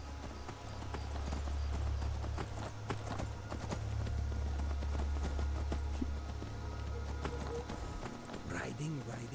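Horse hooves in the game Skyrim, a steady galloping clip-clop while riding, under continuous talking and a low droning background.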